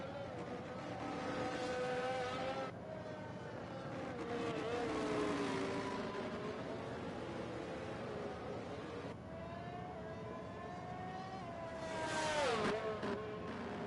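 Race cars in a racing video game drive a formation lap, engines droning and whining steadily as they rise and fall through gear changes, a nearby car revving up sharply near the end, with no voices.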